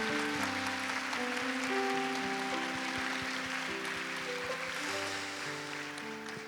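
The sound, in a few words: congregation applause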